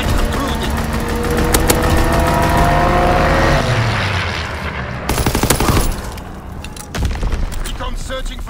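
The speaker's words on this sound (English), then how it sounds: "Fighter pilot inbound, strafing the target." In the Call of Duty WWII video game, a fighter plane strafes the ground with loud, dense bursts of rapid gunfire. Booms and engine roar run through the burst, which eases toward the end.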